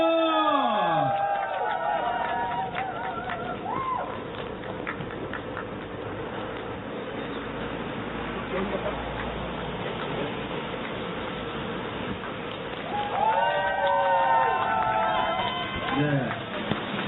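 A crowd at an election campaign rally claps warmly to welcome a speaker, a dense, steady patter of applause filling the middle stretch, with someone talking over a loudspeaker before and after.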